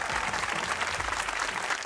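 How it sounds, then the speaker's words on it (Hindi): Studio audience applause on a comedy talk show, a steady, even patter of many hands clapping, continuous and moderately quiet, with no talking over it. "तालियां।"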